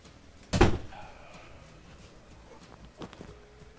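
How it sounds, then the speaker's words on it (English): A room door is closed, giving one sharp thud early on followed by quiet room noise and a softer knock near the end, fairly faint and without talking. "I need to go close my door."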